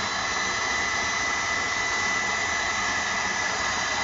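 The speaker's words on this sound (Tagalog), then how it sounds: "Ito, gumamit ako ng maliit na blower." A small blower feeding a large 7-inch used-oil stove with a blue flame, giving a constant, loud whooshing hum with a steady high whine, unbroken and without voices.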